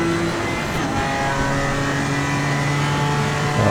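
Porsche and BMW race cars battling wheel to wheel on the Paul Ricard circuit, engines roaring steadily and loud throughout, with some rising revs and no talk.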